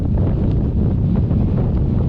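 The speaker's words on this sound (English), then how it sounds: "It's too windy here." Steady, loud wind buffeting a microphone, a constant low rumble with no gaps and no voices.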